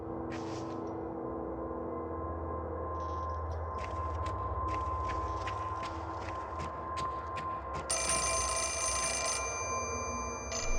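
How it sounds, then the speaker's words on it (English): Telephone ringing in the survival horror game Fatal Frame: Mask of the Lunar Eclipse, repeated trilling rings in short bursts over a low ambient hum, growing louder and brighter near the end. "Phone ringing again."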